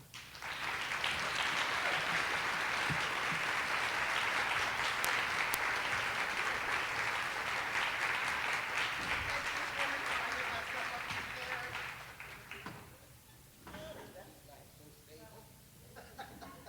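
Audience applause welcoming a keynote speaker at a conference, a sustained dense clapping crowd that fades out toward the end as a voice begins.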